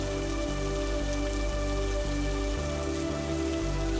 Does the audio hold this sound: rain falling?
yes